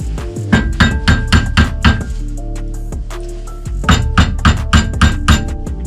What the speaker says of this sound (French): Un étau. Ta patte de derrière et un marteau.